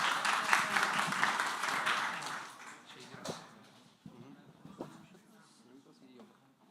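Warm applause from a seminar audience welcoming a speaker to a talk on app store optimization, loud at first and then thinning out over several seconds into a few scattered claps and small bumps.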